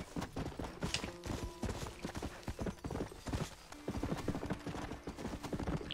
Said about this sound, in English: we're just gonna call for our horse to go to it.